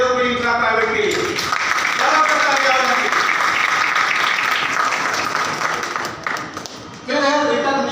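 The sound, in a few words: audience applause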